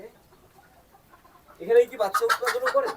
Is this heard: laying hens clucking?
yes